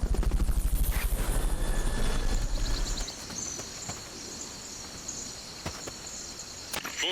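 A helicopter in the video game Metal Gear Solid: Peace Walker thrums with a loud, steady rotor chop for about three seconds, then cuts away to quieter ambient game sounds with a few sharp clicks.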